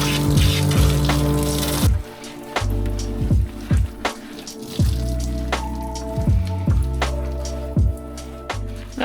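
A small ratter dog named Tuxedo gets a bath, water splashing and dripping with wet rubbing sounds as his beard and eyebrows are lathered, intermittent thumps over soft background music.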